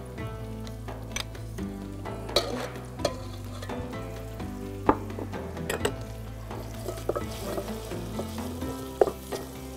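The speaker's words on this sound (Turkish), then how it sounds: "Tereyağı koyacağım." Butter sizzles and fries in a pan over a wood charcoal fire, a steady close crackle broken by sharp pops and occasional stirring clatter, with no talk.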